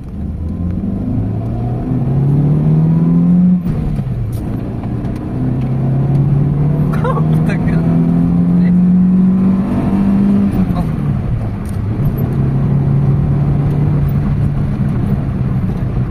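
A Toyota GLI with low power and an idle-up fault, out on a test drive, its engine droning close and steady as the pitch climbs through each gear, drops at the shifts, then pulls again.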